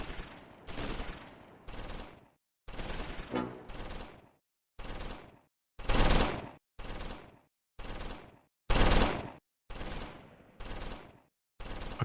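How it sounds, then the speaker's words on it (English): Medium machine gun fire from the Close Combat 4 war game at Wiltz, Battle of the Bulge, aimed at German infantry in the open; a long run of loud, evenly spaced short bursts, each cut off by brief silence, with no other sounds. "Acosta in 2-5, the medium machine gun, targets German infantry in the open."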